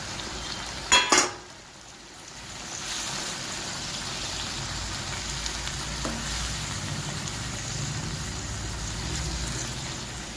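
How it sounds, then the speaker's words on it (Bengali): Tangra fish poured into a pan of salted water, with a short metallic clatter before a steady, moderate bubbling sizzle settles in and continues evenly. "ট্যাংরা মাছগুলো এখানে আমি ঢেলে দিলাম।"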